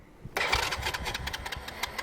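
A 125cc quad bike engine starts after a quiet moment, catching abruptly and settling into a loud, close, uneven sputtering idle.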